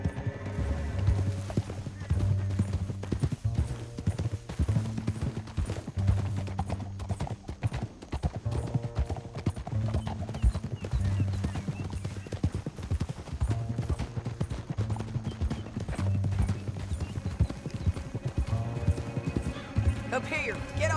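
Horse hooves clip-clop in Red Dead Redemption 2, a steady rhythmic trot running through the whole stretch under game music, with occasional voices talking and a horse whinnying.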